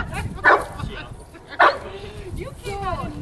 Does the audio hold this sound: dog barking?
yes